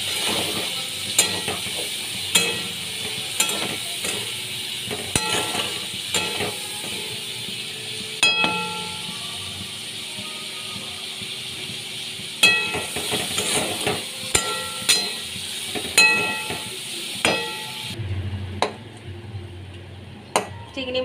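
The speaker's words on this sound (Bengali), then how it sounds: "চিংড়ি মাছ আমি ভেজে নিচ্ছি।" Prawns coated in salt and turmeric frying in a pan, a steady close sizzle with scattered clinks and scrapes of a utensil against the pan, fading out near the end.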